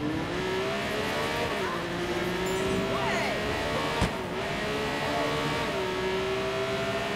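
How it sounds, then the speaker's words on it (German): A car engine from the Watch Dogs 2 video game drones steadily while driving, rising and falling as it shifts through gears, with a brief thump midway and someone talking over it. "Der Wagen gefällt mir, der fährt gut."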